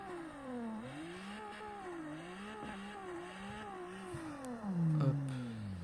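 A car engine in the CarX racing video game revs hard against the rev limiter, its pitch bouncing up and down in quick repeated surges before a final rising pull, loud and steady throughout.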